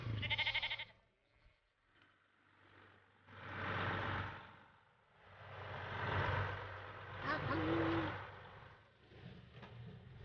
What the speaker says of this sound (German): Solch ein Transporter bietet auf 4 Etagen Platz für 600 Schafe und mehr.